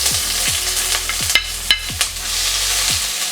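Onions frying in oil in a pan for a chicken gizzard curry: a loud, steady sizzle close by, broken by several scraping stirs of a utensil against the pan, with no talking.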